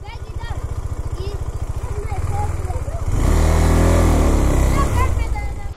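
A motorcycle engine on a mountain road in Ladakh idles with a steady low throb, then revs louder and holds, close by, while people talk over it.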